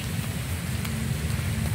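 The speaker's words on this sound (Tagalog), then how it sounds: "Ulan na." Steady rain falling in a rural forest area, a dense even hiss with low patter that stays constant throughout, with no voices.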